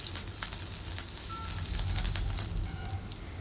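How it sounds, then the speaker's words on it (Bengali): Chopped chilli hitting a small amount of hot oil in a pan, giving a steady, soft crackling sizzle with scattered pops that swells slightly midway and carries on alone without voices. "তো প্রথমে তেলে আমি একটু লঙ্কা কুচি দিয়ে দেবো।"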